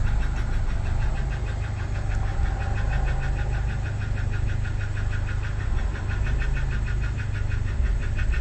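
A Honda Civic EF sedan engine idles as its ECU learns idle, ticking over in a steady, even, close-up rhythm with a low rumble and faint valvetrain chatter, with no voices.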